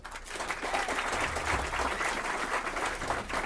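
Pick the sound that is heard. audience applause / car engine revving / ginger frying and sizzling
audience applause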